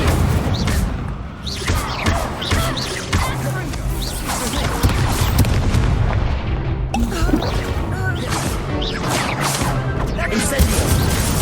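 Repeated fiery bursts and crashing booms from the Incendio fire spell in the video game Hogwarts Legacy sound loud and close, layered with battle noise and voices speaking throughout.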